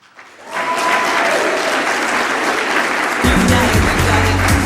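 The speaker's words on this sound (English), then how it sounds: "can I get another round of applause for Congressman Bishop?" An audience at a 2009 Long Island GLBT Services Network gala breaks into loud, sustained applause, rising quickly from near quiet and holding as a dense wash of clapping, with music coming in under it near the end.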